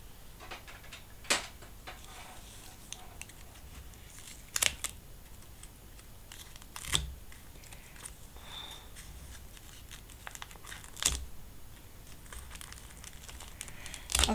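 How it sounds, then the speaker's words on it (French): Double-sided carpet tape being handled and applied while making a card with cutting dies: quiet sparse crinkles and sharp ticks of tape and paper spaced every few seconds, close by against a soft background hiss. "Je vais mettre du double face."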